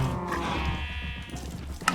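A sheep in a farming video game lets out a drawn, wavering bleat over a steady background hum, close and fairly loud, with a brief click near the end.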